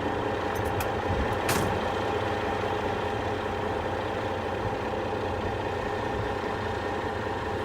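A giant tow truck's diesel engine idles with a steady low rumble as it moves in to pick up a trailer, with a brief hiss of air near the start, close and without speech.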